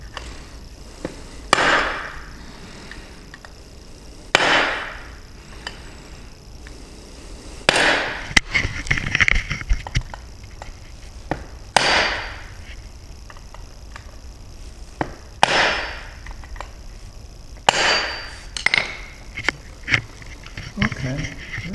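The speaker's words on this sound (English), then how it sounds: "Dad is taking a hammer and a flathead and trying to drive that sleeve inward" A hammer strikes a flathead screwdriver to collapse a bushing sleeve in the differential of a 1998 Dodge Viper, with sharp metallic blows landing at irregular intervals of a few seconds, loud and close, between quieter shop sounds.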